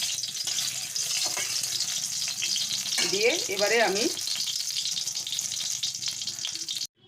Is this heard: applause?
no